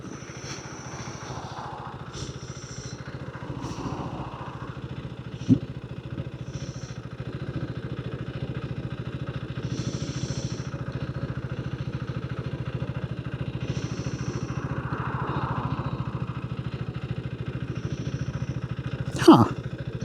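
A motorcycle engine idles steadily and close for the whole stretch, a continuous mid-pitched rumble with a couple of sharp clicks, heard on a ride in Jersey, Channel Islands.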